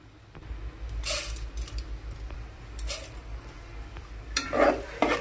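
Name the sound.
peanuts, chana dal and urad dal frying in a pan for pulihora tempering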